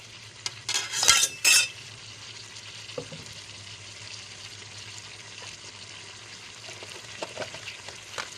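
Chicken curry cooking in a pan, stirred by hand: a low steady sizzle under a few clattering scrapes of a spoon against the pan early on, then quieter intermittent stirring.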